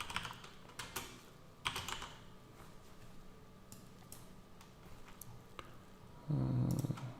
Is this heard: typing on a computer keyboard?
yes